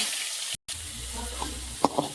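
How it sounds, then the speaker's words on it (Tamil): Quiet sizzling of mustard and cumin seeds frying in hot oil, with a few small sharp pops near the end and no voices. "மாண்டில் வச்சு எண்ணெயும் ஊற்றியாச்சு தாளிக்கிறதுக்கு. இப்போ கடுகும் சீரகமும் ஆட் பண்ணிக்கலாம்."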